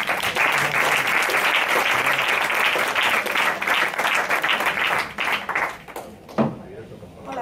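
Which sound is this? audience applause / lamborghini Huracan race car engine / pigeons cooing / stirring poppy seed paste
audience applause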